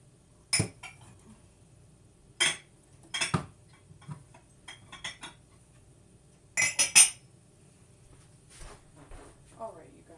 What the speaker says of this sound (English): Washing the dishes is the worst part of cooking.